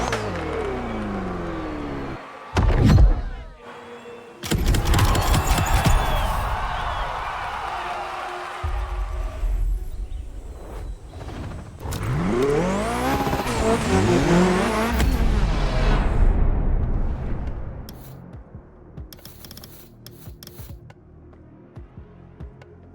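A BMW 3.0 CSL drives in the racing video game The Crew Motorfest, its engine revving up and easing off repeatedly, with tire squeal and a faint crowd in places. The sound is loud and fills the whole stretch.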